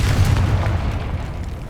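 Confringo fire spell cast in Hogwarts Legacy, a deep rumbling blast of low booming energy that rolls on steadily for under two seconds, loud and close.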